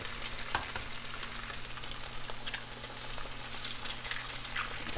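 Eggs frying in coconut oil in a pan alongside fried rice, producing a soft, continuous sizzle with light crackles and a few sharper pops, close but quiet, no talking.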